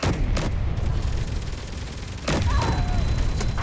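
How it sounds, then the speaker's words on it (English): Heavy video-game gunfire in a fight at a secret weapons facility on Mars, a sustained barrage of shots with louder bursts near the start and again in the last second, loud and close throughout. "Oh, I'm being shot at bad."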